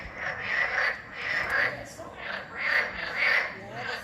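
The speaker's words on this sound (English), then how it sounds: "Liz, I don't know if you can see, it's toads." Toads croak loudly from a canal in Strasbourg, in repeated rhythmic bursts of croaking that rise and fall about every half second, close and dense enough to suggest several animals calling together.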